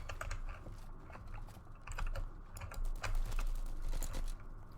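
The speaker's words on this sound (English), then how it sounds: "I'm using my new keyboard. It's not new, it's actually like my very first keyboard that I got. It's just not mechanical." Fingers type quickly on a non-mechanical computer keyboard during a Roblox Bad Business session, producing soft, muffled key taps in irregular bursts, close and fairly quiet, with no talk.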